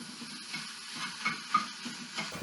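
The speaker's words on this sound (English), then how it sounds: "I'm just going to continually turn this over and make sure that I get all the sides browned" Italian sausage browning in a pan as it's turned over, a soft steady sizzle with rhythmic scraping pulses of the utensil, close and fairly quiet.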